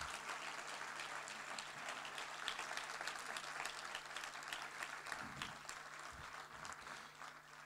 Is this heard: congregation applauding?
yes